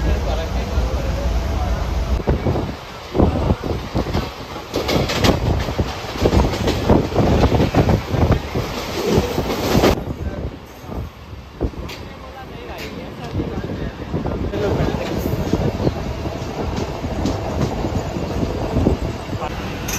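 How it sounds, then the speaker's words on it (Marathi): A Mumbai local train heading toward Marine Lines and Churchgate rumbles and clatters from inside the carriage, a loud, continuous rolling roar with rhythmic wheel knocks and brief squeals, with passengers talking over it throughout. "आता ट्रेनमध्ये बसलेलो आहे"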